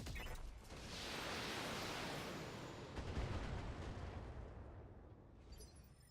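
Mech weapons fire in the BattleTech video game, a broad roaring wash of launches and blasts that swells and rumbles for several seconds before fading, fairly faint and without talk.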